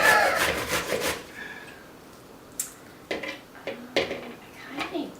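A knife shredding cabbage in a home kitchen makes a few sharp crunchy cuts in separate bursts, with brief talk at the start.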